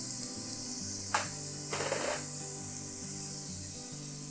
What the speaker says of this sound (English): the first thing I'm going to put in is our onion to cook